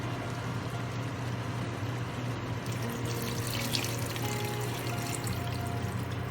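Beef stock pours into a pot of stew meat as a steady, continuous liquid splashing and gurgling, close and fairly loud throughout.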